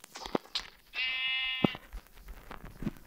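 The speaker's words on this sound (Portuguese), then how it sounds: "Outra ovelha!" A single sheep bleat in the Minecraft video game, one clear, tonal, sustained baa about a second long, set among scattered clicks and game noises.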